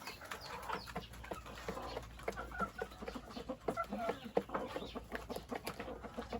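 Chickens on a farm cluck and squawk in quick, uneven bursts as they peck at a smaller bird, close by and moderately loud, with no one talking.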